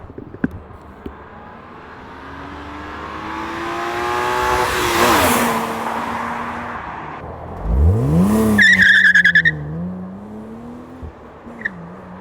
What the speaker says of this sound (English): just so you guys can hear what 240 horsepower sounds like ripping down the road in an M3 Lightweight, Ron's gonna give it all the beans.